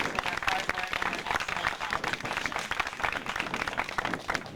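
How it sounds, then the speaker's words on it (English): Audience applause at a pitch night event in Freetown, honoring the presenters: dense, steady clapping from a crowd that fills the whole stretch without a break. "let's please give them all a very large round of applause"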